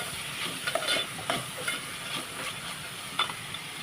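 Onion, chana dal and peas sauté in hot oil for a cabbage dry curry, a soft steady sizzle broken by a few scraping stirs of the spoon, close and fairly quiet with no talk.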